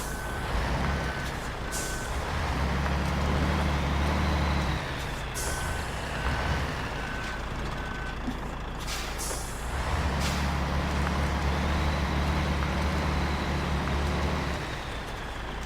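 A heavy off-road truck labours through mud in Spintires: Mudrunner, its engine droning loud and low with rising revs, air brake hisses and intermittent reversing beeps, no speech.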